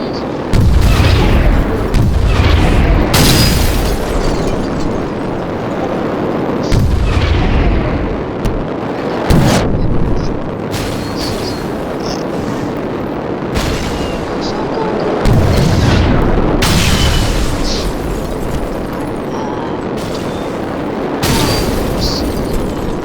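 Repeated booming missile explosions and gunfire in the War Wings air-combat game, loud bursts recurring every few seconds over a dense, continuous battle rumble.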